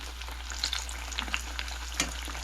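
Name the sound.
panko-breaded eggplant frying in a pan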